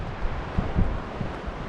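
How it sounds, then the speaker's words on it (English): Strong desert wind in the Mojave buffeting the microphone in low, rumbling gusts, with a few sharper thumps; no voices. "It is really windy out. The wind is still howling."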